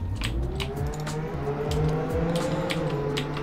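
A Chevrolet Camaro in Roblox Jailbreak reverses fast, its game engine droning in a steady revving whine with layered harmonic tones, punctuated by short sharp clicks and blips throughout.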